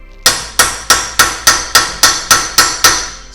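A hammer striking an impact screwdriver to loosen a brake screw on a Kia Soul, ten sharp metallic blows in a quick, even rhythm, loud and close, with no talk.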